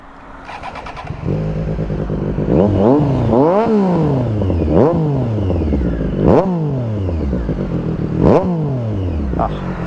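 A Triumph Street Triple 765RS fitted with an AliExpress SC Project exhaust starts up and settles into a loud, close idle, then revs sharply several times in rising and falling blips, its exhaust note dominating the clip.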